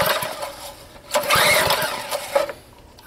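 Old rototiller engine, previously seized, sputters into life and runs briefly on residual carburetor gas, a close, rough mid-pitched chugging that surges after a second and then fades and falters.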